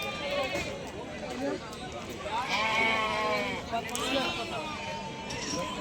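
Several sheep and goats bleat repeatedly and loudly at a livestock market, overlapping one another amid a busy, noisy crowd.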